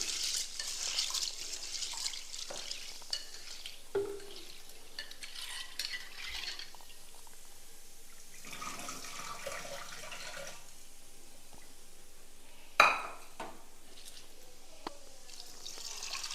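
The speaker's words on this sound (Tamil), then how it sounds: "இதை நல்லா ரெண்டு தடவை கண்ணி தண்ணி ஊற்றி கழுவிடுவோம்" Water swishes and sloshes softly as lentils are stirred and rinsed in a bowl, quiet and close, with an occasional louder splash.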